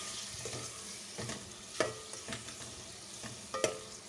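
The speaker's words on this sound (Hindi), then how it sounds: "हमें इसको उस वक्त तक भूनना है जब तक कि हमारे टमाटर सॉफ्ट ना हो जाएं और अच्छी तरह से मसाले के साथ गल ना जाएं।" Masala and finely chopped tomatoes fry in a pan for a mixed vegetable dish, giving a soft steady sizzle with occasional scraping stirs of the spoon, close and fairly quiet, with no talking.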